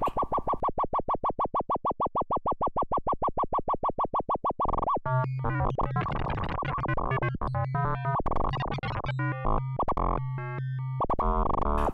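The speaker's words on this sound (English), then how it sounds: "let's add a little bit of LFO to the filter as well to just give a little bit extra movement in that sound" Novation Peak synthesizer tone with LFO modulating the filter, pulsing in rapid regular throbs, then shifting into a busier melodic passage with wobbling, filtered notes.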